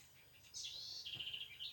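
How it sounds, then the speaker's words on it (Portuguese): Birds sing outdoors on a clear morning after rain at a rural farm, a faint, thin run of high chirps and trills lasting about a second, fairly distant and alone. "Olha os passarinhos cantando."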